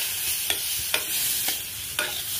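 A spoon works mango pulp into roasted semolina for mango sheera, with four evenly spaced scraping strokes over a bright, continuous hiss from the hot pan.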